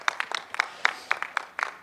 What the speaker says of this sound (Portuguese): Olha aí, uma salva de palmas para a Juju.